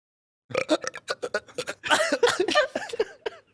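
A person burps repeatedly in a long series of short, close eructations after half a second of silence, with the bursts growing longer and rougher midway.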